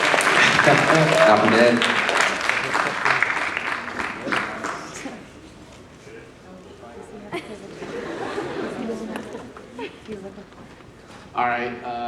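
An audience at a casual community talk event claps and cheers loudly at first, then the clapping thins out under chatter and laughter, with a voice speaking near the end.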